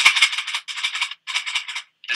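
Box being shaken, a close, dry rattling and scraping in quick bursts with short pauses between shakes.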